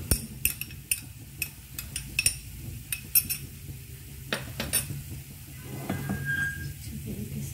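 Minced meat with garlic and ginger paste being stirred in a pan, with repeated sharp clinks and scrapes of a spoon against metal over a soft sizzle, and a brief voice in the background.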